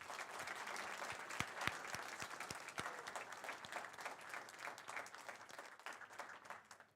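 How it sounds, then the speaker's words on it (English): A symposium audience of students, faculty and friends at a maritime academy climate event applauds its guest speakers: steady, fairly soft crowd clapping with a few sharper individual claps standing out, sustained across the whole stretch. "please give our guest speakers a round of applause"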